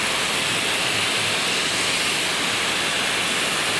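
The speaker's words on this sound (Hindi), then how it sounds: "देखिए बड़ी बारिश हो रहा है फरीदाबाद में।" Heavy monsoon rain in Faridabad, a loud, dense, unbroken roar of downpour close by with no voices over it.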